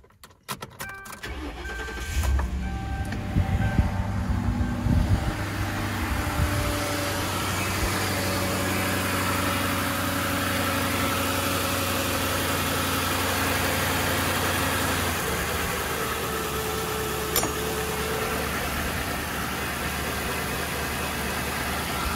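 A 1998–2011 Ford Crown Victoria engine cranks briefly, catches and settles into a steady, even idle that continues loudly to the end, with no talking.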